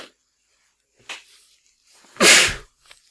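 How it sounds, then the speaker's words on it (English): A single loud, close human sneeze with a short intake of breath before it, preceded by faint sniffles and breathy sounds in a quiet room. "I feel like I'm going to sneeze here again in a minute."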